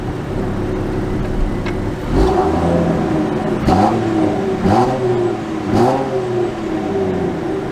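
A 2023 Land Rover Defender X pulls away, its engine revving up in three distinct surges with brief dips between them as the gears shift, moderately loud and steady underneath.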